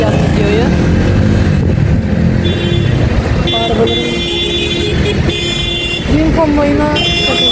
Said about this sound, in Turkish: benim konvoyuna takılmışız da çok korna gürültüsü falan vardı